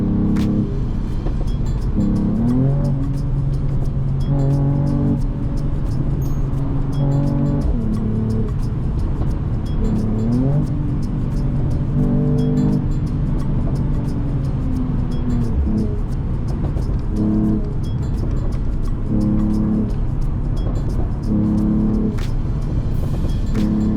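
A 2021 Mercedes E53 convertible's engine hums steadily while driving, its pitch rising and falling through gear changes, loud and continuous throughout.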